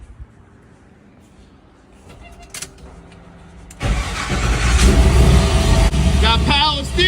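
A 1972 Chevrolet Impala convertible with a swapped LS3 V8 cranks after a quiet moment with faint clicks, catches, and settles into a loud, deep rumbling idle close by.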